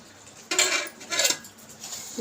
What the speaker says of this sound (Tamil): இப்போ சோறை கிளறிடலாம்.